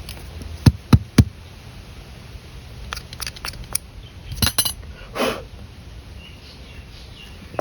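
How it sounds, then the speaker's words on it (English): Dirt being knocked out of a part from a racing mower built from scratch: several sharp, loud knocks in a quick pair or triple, then scattered lighter taps and clinks, with no talking. "Let's knock the dirt out of that thing."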